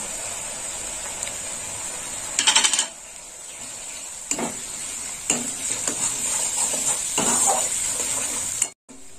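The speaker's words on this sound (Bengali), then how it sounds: "এবার একটু মশলাটাকে ভেজে নেব।" Spices with red chilli powder frying in a pan give a steady, hissing sizzle, broken by a few scraping stirs and metallic clinks of a spoon against the pan.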